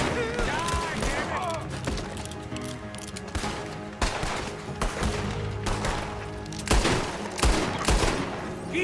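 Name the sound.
gunfire in Red Dead Redemption 2 video game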